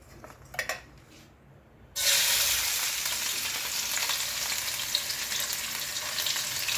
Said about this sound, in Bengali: এই রসুন কুচি পড়ল